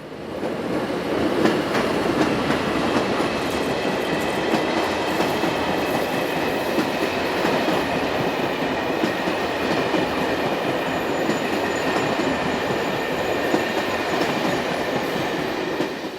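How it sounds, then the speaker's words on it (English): A Czech Railways Class 162 electric locomotive in blue and white livery pulls a passenger train into a station, a continuous loud rolling rumble with rhythmic wheel clatter over rail joints and faint squeals, close by. "One 162-037 arrives with the 1056 from Cetin to Prague."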